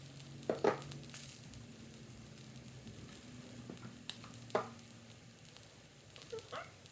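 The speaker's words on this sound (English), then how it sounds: "I'm gonna take our sizzling salmon and put it skin side up like so" Salmon skin sizzles in a frying pan with a faint, steady crackle, broken by a few sharper clinks and scraping sounds from handling in the pan.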